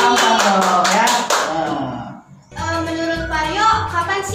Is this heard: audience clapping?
yes